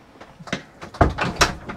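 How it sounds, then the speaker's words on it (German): The door of a Mooveo TEI 74 EBH motorhome is pulled shut, a few close rattling knocks and a firm latching thud inside the vehicle, with no talk. "wie wäre es denn, wenn du die Tür zumachst?"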